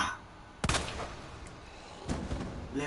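Two sharp gunshot cracks from the video game Resident Evil 2 remake, the first near 0.6 seconds and the second about a second and a half later, with a faint pop between them over quiet background hiss.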